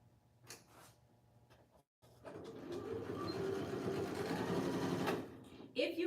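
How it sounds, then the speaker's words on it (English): Sewing machine stitching denim corset pieces, a steady mechanical whir that starts after a short pause and runs continuously for several seconds, fairly close, with faint speech-like sounds before it begins. "now I can go ahead and sew this one because it's already clipped"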